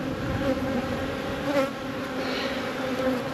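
Buckfast honey bees in an open hive give a steady, dense buzzing hum from close by, loud and continuous with no talking.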